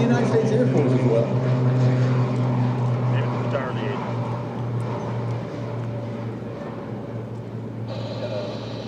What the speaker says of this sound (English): These are the T-6 Texan IIs. Primary trainers used by the Navy and the Marine Corps